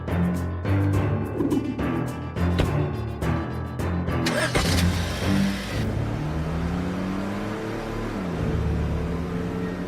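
A car in a home driveway starts up and pulls away, its engine revving and then settling into a steady hum as it drives off, with background music over it.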